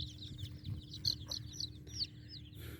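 A mother hen clucks to her young chicks, a string of soft repeated clucks and thin peeping close by over a low background hum.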